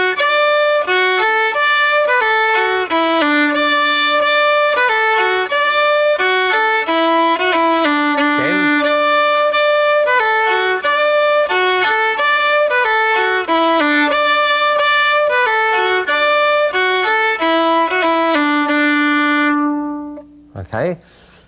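A solo fiddle plays the opening two parts of Sullivan's Polka, a lively Irish tune, with bright, continuous bowed notes in a steady bouncing rhythm, close and loud, stopping near the end.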